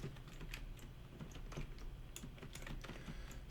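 Someone types steadily on a computer keyboard, a close, quiet, irregular run of soft key clicks alone in the room.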